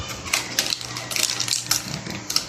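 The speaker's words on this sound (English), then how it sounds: "We're just gonna cut open the plastic" Scissors snip through stiff plastic packaging around a computer hard drive, a quick run of sharp, irregular clicks and crinkles close up with no voices.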